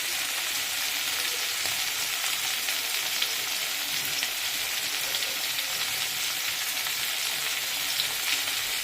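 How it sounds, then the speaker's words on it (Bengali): Potato and green jackfruit pieces frying in hot oil in a home kitchen, a loud, even, continuous sizzle with no break and no talk. "এই যে আলু আর এইটা ভাজছে, তোমাদেরকে বললাম এঁচোড়টা ভাজা হয়ে গেছে"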